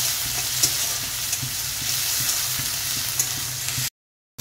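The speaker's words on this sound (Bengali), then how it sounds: "পেঁয়াজটাকে দিয়ে একটু ভালো করে পেঁয়াজটাকে ভেজে নেব।" Chopped onions sizzle steadily in a pan with whole garam masala and bay leaves for a kolkata-style bottle gourd kofta curry, a continuous close hiss with faint stirring scrapes, cutting off abruptly near the end.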